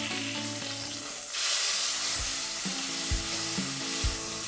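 Beef cheek sears in a hot pan with a steady, close sizzle and crackle, with some light background tones and soft low thumps.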